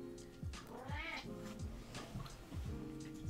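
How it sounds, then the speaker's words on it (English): A pet cat meows several times in a row, drawn-out, wavering calls close by, each rising and falling, with short pauses between them. "My cat is saying bye, everyone."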